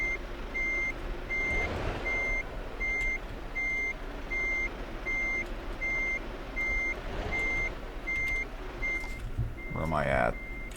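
A truck backing a trailer into a parking spot in Euro Truck Simulator 2 gives off steady, evenly spaced reversing beeps over a constant engine rumble.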